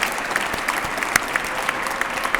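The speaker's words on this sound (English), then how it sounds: "Let's give a round of applause to all of our awardees." A rally crowd claps for awardees in a brief burst of steady, fairly dense applause with a few sharper individual claps standing out.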